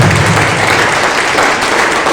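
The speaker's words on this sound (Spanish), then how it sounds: "Denle un fuerte aplauso a Él, porque su misericordia es para siempre." Congregation applause in a church service, a loud, dense and unbroken roar of many people clapping together, with no one speaking over it.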